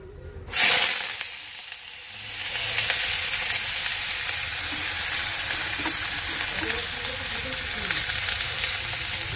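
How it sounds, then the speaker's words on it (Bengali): Chopped onion dropped into hot oil bursts into a loud sizzle after a short quiet start, then settles into a steady, close frying hiss with light stirring throughout. "পেঁয়াজটা আমি তেলের উপরে দিয়ে দেব"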